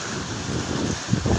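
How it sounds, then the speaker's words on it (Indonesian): Strong storm wind batters the microphone beside the water, a loud continuous rumbling roar that swells into heavier gusts toward the end, with no talk. "Sangat kuat cuaca angin ini."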